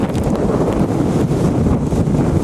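Strong outdoor wind buffets a microphone in steady, roaring gusts during tornado weather in Sarasota, Florida, with a broad rushing noise holding the whole time and no voices.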